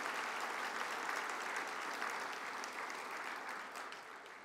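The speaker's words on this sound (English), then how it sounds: "I want to just give them an applause because they deserve it" Audience clapping at a Hall of Fame induction dinner, a sustained, even round of applause from a room of diners that fades slightly toward the end.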